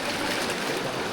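River water flows steadily nearby, a soft, continuous rushing wash with no voices over it.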